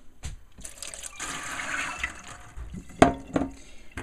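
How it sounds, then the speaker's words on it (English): Kitchen tap water streams into a small strainer set on the side of the sink, a steady splashing rush for several seconds with a sharper splash or clatter near the end. "I can just use the water right from the tap"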